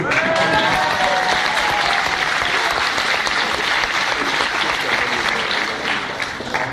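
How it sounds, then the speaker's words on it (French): An audience applauding at a ceremony for students finishing three years of study: sustained, full-room clapping at a steady level that eases slightly toward the end, with faint voices underneath. "vous n'avez pas applaudi Prisca."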